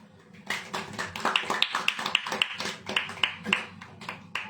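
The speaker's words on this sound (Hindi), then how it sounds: "ताली बजाओ।" A church congregation claps along at a sermon, a steady run of sharp, fairly close handclaps with a few louder accented beats across the whole stretch, with no speech over it.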